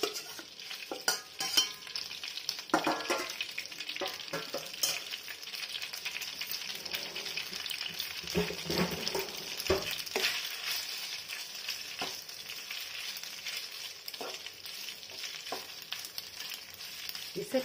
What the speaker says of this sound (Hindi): पहले मैं पास्ता को फ्राई कर दूंगी।